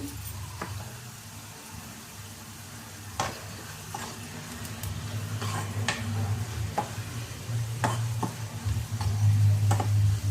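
Onions sizzle steadily in hot oil while they brown for a fenugreek-leaf and red lentil dish, a constant frying hiss broken by occasional stirring clicks and scrapes from the pan.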